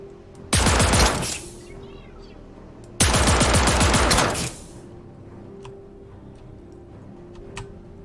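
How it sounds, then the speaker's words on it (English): Two long bursts of rapid machine gun fire in the video game Star Citizen, loud and close, each lasting over a second with a short gap between, followed by faint ticks and a low hum. "Somebody's shooting. Sounded like something like a machine gun."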